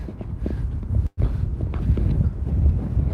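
Steady wind buffeting the microphone with a low, rumbling roar, briefly cutting out for an instant partway through.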